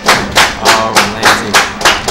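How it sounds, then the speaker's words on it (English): Spectators at a Super Smash Bros. Melee tournament clap in a slow, steady rhythm of about eight loud, evenly spaced beats. "we got the claps in the background"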